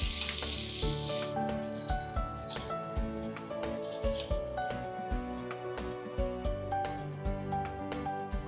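Breaded, crumbed tofu fries in hot oil for a Japanese tofu katsu curry, a steady loud sizzle and crackle that carries throughout with no talk, later joined by sharper intermittent pops and clicks.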